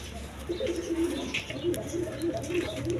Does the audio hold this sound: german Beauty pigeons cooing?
yes